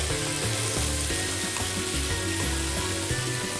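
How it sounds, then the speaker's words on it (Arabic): Eggplant sizzles steadily while being stirred and fried in a pan, a continuous close crackle with occasional scraping pulses from the stirring. "وهحط البتنجان برضه، هقلبهم شوية"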